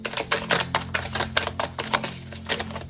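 A deck of worn, old tarot cards is shuffled close by, a rapid series of crisp slapping clicks and riffles in an irregular rhythm across a few seconds, with no speech.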